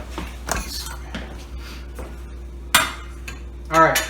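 Kitchen utensils and cookware clatter while a spoon is picked out during crab cake prep, with a few sharp metallic clinks and knocks spaced out over several seconds against a quiet background.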